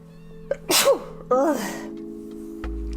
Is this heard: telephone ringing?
no